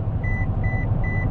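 Lane departure warning in a 2019 Toyota Tundra TRD Pro: three evenly spaced, short electronic beeps over a steady low engine and road rumble inside the cab.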